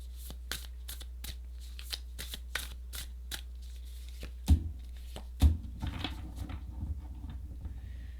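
Tarot deck being shuffled close up, a run of sharp evenly spaced card flicks, then two heavier taps as cards land and a soft rustle of handling.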